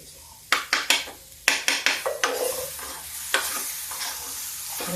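Pointed gourd (parwal) frying in ghee in a pan gives a steady close sizzle, broken by a quick run of sharp spoon-on-pan scrapes and clinks as it is stirred, then slower, scattered stirring knocks.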